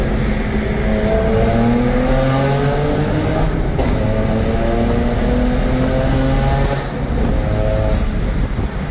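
A BMW 335i pulls hard through second gear, its engine note climbing steadily in a loud, continuous run from inside the car, with a brief sharp chirp near the end.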